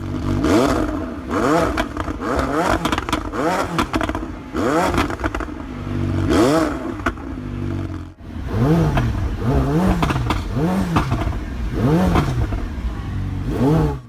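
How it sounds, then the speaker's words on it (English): A McLaren 720S 4-liter twin-turbo engine on a cold start idles high and loud, its note rising and falling in repeated swells, with sputtering pops and clattering crackles from backfiring throughout. "During a cold start, the engine is fed extra fuel to warm up, which creates some backfiring."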